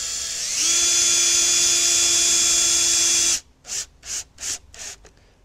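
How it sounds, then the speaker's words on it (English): A cordless screwdriver drives a screw into a wooden planter joint with a steady, loud whine for about three seconds, followed by four or five short, sharp bursts as the screw is snugged down, with no talking. "I'm going to get my cordless screwdriver"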